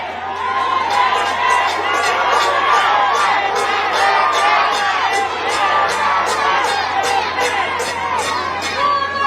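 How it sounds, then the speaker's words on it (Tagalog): A large crowd at an outdoor political rally in Manila roars with sustained cheering, whooping and shouting, loud and continuous, with rhythmic chant-like bursts rising through the dense crowd noise. "Ang sigaw ng mga tao ay Duterte"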